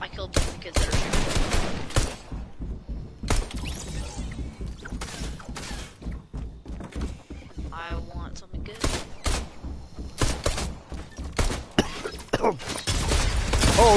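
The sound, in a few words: gunfire in a video game shootout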